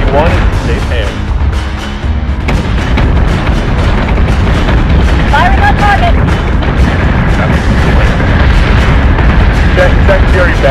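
Warships in Battlestar Galactica Deadlock fire weapons in a dense, continuous barrage of booms and blasts, loud throughout, with voices of crew and commander speaking over the battle.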